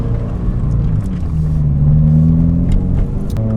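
Toyota GR86 driving during a track day, its engine a steady close rumble with a droning tone that rises briefly in pitch mid-way, loud and continuous with no voices.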